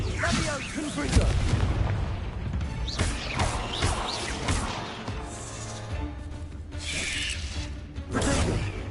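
Repeated Confringo blasting spells in the Hogwarts Legacy video game, a series of loud booms and crashing impacts amid combat effects, with a voice speaking over parts of the fighting.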